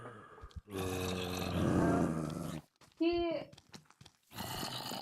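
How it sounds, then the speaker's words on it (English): Zombie Dog from a Resident Evil mod growls and snarls loudly in rough, sustained bursts, with a sharper yelping cry near the end, up close and dominating the game soundscape. "Next we have the Zombie Dog. He can take quite a few hits without that much damage, and he's very loud."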